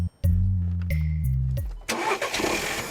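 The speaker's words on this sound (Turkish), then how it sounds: "Şimdi kontağı çevir." A car engine cranks as the ignition key is turned, the starter grinding in a steady rhythm for over a second before the engine catches and roars to life, close and loud.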